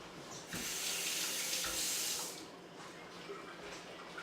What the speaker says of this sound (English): I'm going to go off camera and rinse my hands